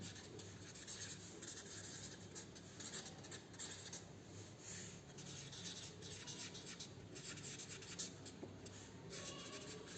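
Steady scratchy rubbing of writing on a board during a class 9 science lecture, continuous and close with uneven strokes and no talk over it.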